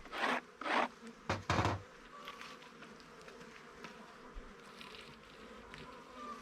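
Honeybees buzzing faintly and steadily close by at an open hive, with a few louder scraping rustles at the start, then a low continuous hum.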